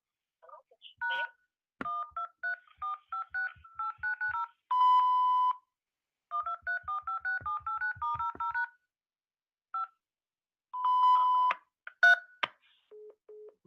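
A series of crisp telephone touch-tone beeps and line tones plays in short clustered bursts with silent gaps after a voicemail line on a phone phreaking call hangs up, ending with a few isolated tones.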